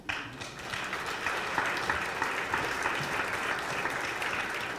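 Sustained applause from an audience at a chamber of commerce awards event, a steady dense wash of clapping that holds at even loudness for several seconds with no talk over it.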